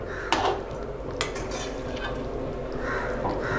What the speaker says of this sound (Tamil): நம்ம ஒரு பவுலுக்கு இதை ட்ரான்ஸ்ஃபர் பண்ணிக்கலாம்.